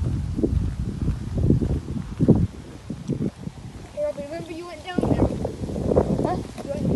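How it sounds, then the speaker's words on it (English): Strong wind outdoors around abandoned railway ruins, heavy low buffeting rumble on the microphone with gusts rising and falling, under a person talking throughout. "The wind is so bad."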